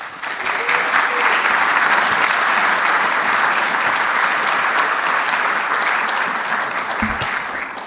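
Sustained audience applause welcoming a speaker to the stage at an author talk and book signing, a dense steady wash of clapping from a large crowd that holds for several seconds before easing off.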